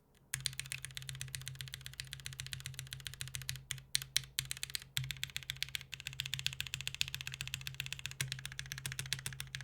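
Typing on a TGR Jane V2 mechanical keyboard fitted with lubed Black Gateron Ink switches: rapid, even keystrokes in a steady stream, close and crisp, with occasional heavier presses and short pauses.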